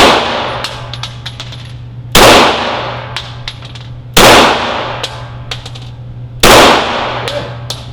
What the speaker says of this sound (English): I want you to shoot the circle 4 times